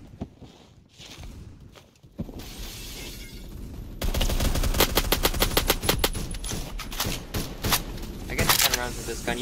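A gun fires in an online shooter video game, rapid bursts of automatic shots growing loud and continuous in the second half after quieter movement and footsteps.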